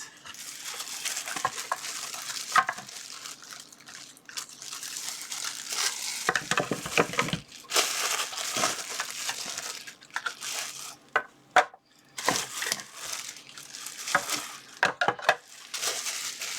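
Acrylic pen holder parts are pulled from their packaging in a run of crinkling plastic rustles, clicks and light knocks, irregular and close up, with short pauses between bursts.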